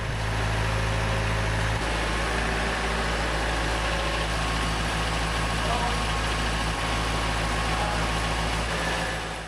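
A tractor engine runs steadily close by, a continuous low rumbling drone that holds level for the whole stretch without pauses.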